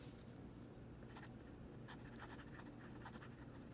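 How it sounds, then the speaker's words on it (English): A Sailor 1911 fountain pen writes across paper, giving a steady, fine scratching texture with brief brighter strokes, quiet and close, with no talk. "It is not silent as it's writing."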